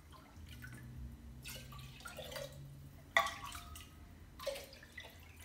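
Strained beef bone broth, made in an Instant Pot, is poured from a measuring cup into a glass jar. It comes through as faint, intermittent splashes and drips of liquid separated by quiet gaps.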